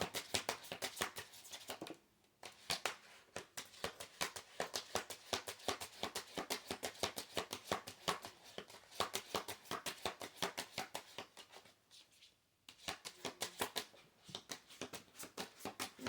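Tarot cards are shuffled close up in a rapid run of crisp riffles and slaps, broken by two short pauses, while no one speaks.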